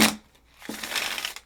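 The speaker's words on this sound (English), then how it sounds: "I will shuffle like playing cards." A brand-new deck of playing cards being shuffled for the first time, a quick papery riffle burst at the start and a longer crisp flutter of cards after a short pause, close and moderately loud.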